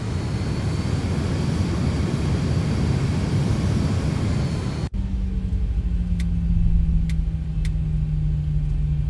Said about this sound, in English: Really nice sounds coming from the Zebo 737, really happy with that.